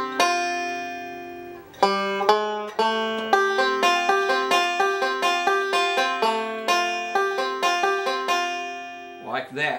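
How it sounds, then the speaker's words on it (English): Banjo playing a forward roll that starts with the thumb on the fifth string, bright plucked notes in a quick even rolling rhythm after a single opening note, close and clear with no voice. "Then the forward roll comes in, beginning with the thumb at the fifth string."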